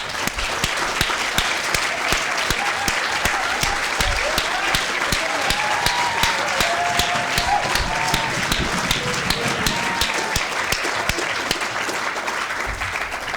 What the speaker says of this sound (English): can we have a huge round of applause for all of our incredible award winners tonight